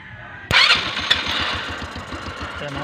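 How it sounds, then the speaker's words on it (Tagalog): A motorcycle engine starts with a sharp catch, then settles into a loud, fast, rhythmic idle that continues to the end. "Start natin motor natin."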